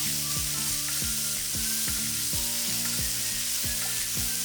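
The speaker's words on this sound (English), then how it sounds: "I'm gonna add the onions and cook it in the same pan with the bacon and all the bacon grease." Onions frying in bacon grease in a pan, a loud continuous sizzle with a rhythmic series of stirring scrapes and knocks throughout, close up.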